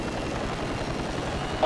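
Police helicopter in the racing game Need for Speed Hot Pursuit Remastered, a steady, loud rotor and engine drone filling the whole moment with no talk over it.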